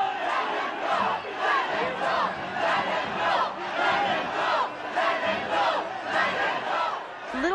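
An angry crowd of protesters shouts and chants in rough, repeated surges. Many voices overlap at a steady, loud level for several seconds.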